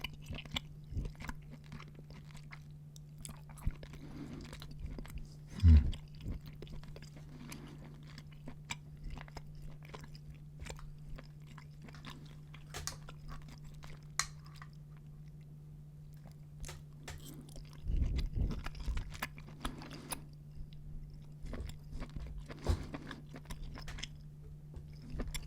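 Slow, close-up chewing of salty canned clams, with soft wet squishes and occasional louder bites spread across a quiet background and a steady low hum.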